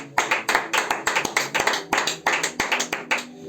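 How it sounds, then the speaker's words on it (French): A congregation at a seven-day religious convention claps rhythmically in praise of Jesus, a dense, steady run of sharp, close hand claps filling the whole stretch. "Est-ce que tu peux acclamer pour Jésus?"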